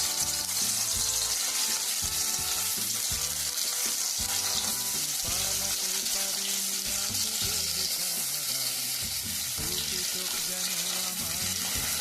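Fish frying in hot oil in a pan, a loud continuous crackling sizzle with busy spattering throughout, close and steady.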